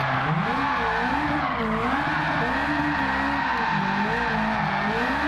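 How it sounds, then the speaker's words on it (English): A 740 hp Alfa Romeo 4C fitted with a Ferrari 458 engine drifts hard in Gran Turismo 7. Its tires skid and squeal over a loud, steady engine roar for the whole stretch, with no talk. "It does hold the drift well, it just has a very wide angle."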